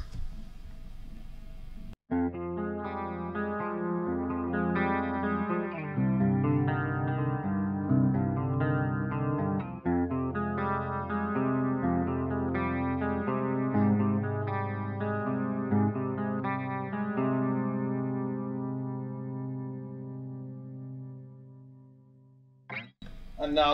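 Electric guitar through a Mesa Dual Rectifier Reborn Multiwatt amp with chorus applied, playing distorted chords and sustained notes that ring out steadily and fade at the end.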